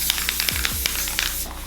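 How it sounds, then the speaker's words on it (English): Spray adhesive hissing out of an aerosol can onto a balloon animal, a steady close airy spray with a few brief bursts and low background noise. "I feel like I need to move my drink to a safe space so that we don't get spray adhesive into it."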